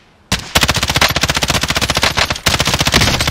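Rapid automatic gunfire from an M13 rifle in Call of Duty: Modern Warfare Warzone, loud and close, one sustained burst, a brief pause, then another stream of shots.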